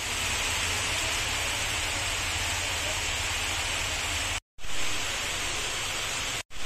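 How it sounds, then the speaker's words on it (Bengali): Heavy rain falling outside, heard as a steady, dense hiss that fills the space evenly, broken only by two abrupt silent gaps. "এখনো প্রচুর বৃষ্টি হচ্ছে বাইরে।"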